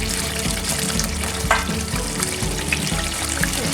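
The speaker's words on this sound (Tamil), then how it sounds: "இது நல்லா கொதிச்சுட்டு" Mushroom masala bubbles and simmers in a pan, a continuous close bubbling sizzle with soft rhythmic pops and a few brief clinks.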